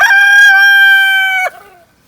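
A homestead rooster crows once, loud and close, a single sustained cock-a-doodle-doo lasting over a second before trailing off into quiet.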